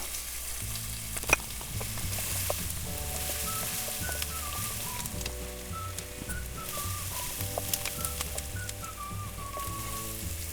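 Onions and garlic sautéing in a non-stick pan, a soft, steady sizzle with occasional stirring clicks, while quiet music with a whistled melody plays in the background.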